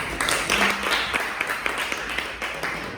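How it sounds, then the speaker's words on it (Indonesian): An audience claps for the children at the front of a school gathering. The applause is steady and moderately loud, with scattered individual claps, and fills the whole short stretch without talk. "silakan berikan tepuk tangan"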